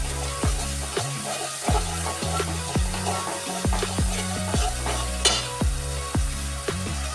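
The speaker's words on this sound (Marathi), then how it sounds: "शेजवान चटणी, याला चांगला मिक्स करून घेऊ" Vegetables stir-fried with schezwan chutney for a street-style veg frankie sizzle loudly in a pan, punctuated by a regular series of sharp spatula knocks against the metal as the mixture is tossed.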